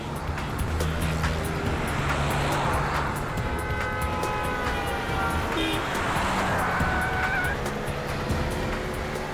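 A car driving along a road, with steady traffic noise throughout, a couple of horn toots and passing vehicles, under a busy engine hum.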